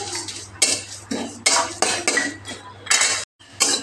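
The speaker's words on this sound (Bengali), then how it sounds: "এবার এই শুকনো খোলায় জিরে আর দুটো শুকনো ঝাল হালকা একটু ভেজে নিতে হবে" Cumin seeds and two dried chillies are dry-roasted in a hot, oil-free pan, heard as repeated scraping and clinking of a utensil against the metal in uneven bursts, close and fairly loud, with brief pauses.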